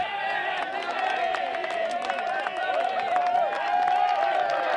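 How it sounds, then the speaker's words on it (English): Crowd noise swells steadily from the stands during a tight men's national senior final between Canterbury and Waikato, a continuous roar of cheering and clapping running under a commentator's voice. "Just hear the crowd here lifting, just urging one of these teams to break the deadlock and avoid a shootout."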